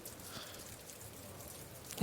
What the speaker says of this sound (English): you can hear like the sounds of the rain pattering against the roof